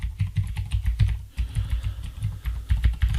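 Quick, uneven clicks and clacks of a computer keyboard being typed on, close up and steady for several seconds with no speech.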